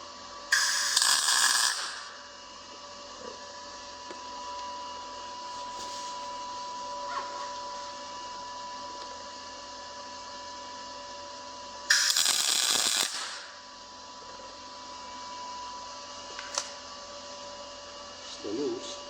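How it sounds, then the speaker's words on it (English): A MIG welder fires two short loud tack welds, each a dense crackling burst of about a second, separated by a long stretch of low shop hum with a few faint clicks. "I don't know what's up with my MIG welder today."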